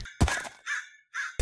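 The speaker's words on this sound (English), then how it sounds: "The crow, bro." A crow in a video game gives a few harsh caws, short rasping calls separated by brief gaps, loud and close, with a sharp thunk at the start.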